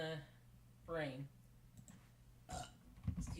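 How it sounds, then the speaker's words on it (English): A person burps once, a short, rough, close belch rising out of a quiet room, followed by scattered soft clicks from a keyboard or controller. "Excuse me, I burped."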